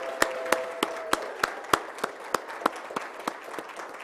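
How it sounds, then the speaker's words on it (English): Slow, scattered applause at a school board business meeting: about a dozen distinct claps keep an even, steady rhythm, moderately loud in a quiet room, with a brief tone at the start and no one speaking. "Give her a round of applause."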